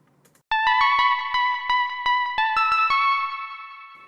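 An 1980s-style synth lead with delay and reverb plays a rapid sequence of bright notes that blur and ring into each other, leaving a long, spacious echoing tail fading out at the end.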